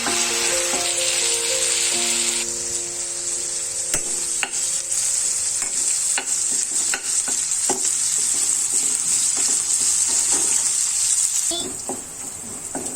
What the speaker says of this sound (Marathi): ही बघा, आलं लसूणची पेस्ट आपली व्यवस्थित तेलामध्ये परतवून झाली आहे।